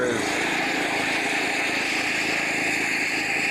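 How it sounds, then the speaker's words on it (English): A lawn mower cuts bent grass with a steady, continuous engine drone and blade hum, close and constant throughout with no breaks. "Now that I'm mowing this bent grass,"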